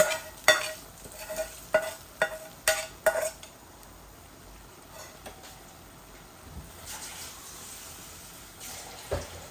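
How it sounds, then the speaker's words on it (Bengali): Fried shutki, dried fish, is tipped into a pan and stirred, opening with a quick run of sharp metal clinks and scrapes before settling into a faint, soft sizzle with occasional utensil knocks. "এই যে আমার শুটকিটাও ভাজা ভাজা হয়ে গেছে, এখন আমি ঢেলে দিচ্ছি"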